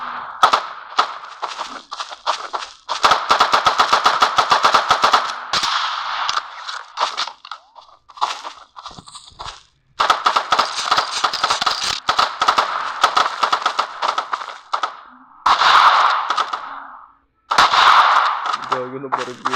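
Rapid gunfire bursts from the sniper class in Team Fortress 2, loud clustered shots broken by short pauses, with players talking over the action.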